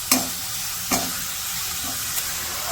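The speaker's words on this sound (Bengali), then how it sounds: "পেঁয়াজগুলো তো হালকা ভাইজে নিচ্ছি" Onions frying in a pan while being stirred while beef is cooked in a village kitchen, a steady close sizzle broken by a few sharp scraping stirs.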